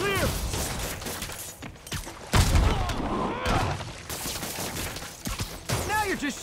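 Gunfire in the Spider-Man video game on PS5, a dense ongoing fusillade of shots and booms with mechanical clatter, with game voices shouting over the fighting.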